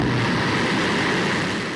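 Loud, steady broadband roar of a SpaceX Falcon 1 rocket launching and climbing past the tower, continuous and unbroken throughout with no voices.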